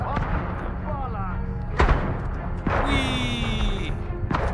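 Gunfire in the game Atomfall, a few sharp reports and thuds cutting through a busy mix of game music and effects, with a voice talking over it.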